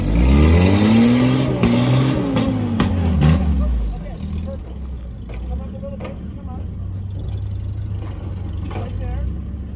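A Willys Jeep crawls over rocks in Pritchett Canyon, its engine revving hard and loud in rising and falling surges, then easing into a lower steady idle and throttle blips, with people talking nearby.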